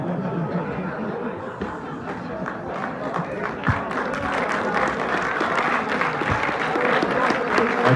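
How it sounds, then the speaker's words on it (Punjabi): An audience claps continuously at a live Punjabi comic show, the applause swelling and staying steady, with scattered chuckles and crowd chatter mixed in. "ਇਹ ਤਾੜੀਆਂ ਵਿਆਹਾਂ ਵਾਲੇ ਮਾਰ ਰਹੇ"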